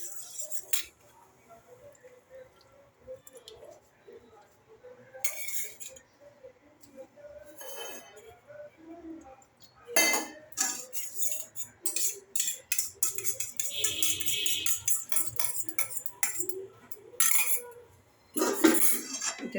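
A spoon clinks and scrapes in a bowl while yogurt raita with cauliflower and potato is mixed, bursts of quick metallic taps separated by quiet gaps, close up.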